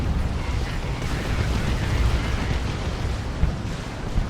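Continuous battle din from the real-time strategy game Dawn of War 2, Orks against Imperial Guard, with rolling explosions and artillery fire blending into a dense, steady roar and a couple of sharper bursts near the end.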